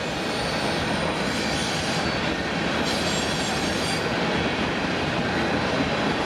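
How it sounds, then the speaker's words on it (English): A train rolls past in a steady, loud, continuous rumble, with wheels squealing high on the rails partway through. "this is my last train, my sixth and final train of the day"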